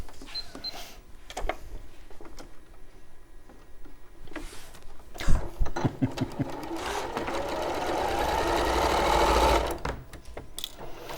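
A sewing machine stitches a quarter-inch quilt seam, starting with short stop-start bursts, then running in a long steady whirring stretch that builds louder before stopping, close up with faint talk nearby.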